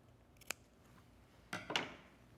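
Fabric scissors make a few quiet, crisp snips into an invisible zipper while sewing a dress, one isolated cut followed by a quick pair of closer cuts.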